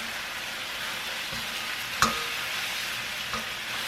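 Chicken adobo stirred in a pan gives a steady sizzle, with one sharp scrape of the utensil near the middle and a softer knock later on.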